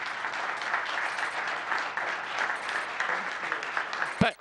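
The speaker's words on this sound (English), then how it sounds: "a big round of applause for Mayor Agnew and Lila Agnew" A crowd applauds a mayor and his wife at a sister-city celebration event, steady dense clapping from a roomful of people that runs throughout before a brief sharp bump near the end.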